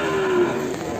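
An Ongole cow at a morning livestock market in Kebumen, Indonesia, gives a single loud, close moo that lasts about a second, with no talking.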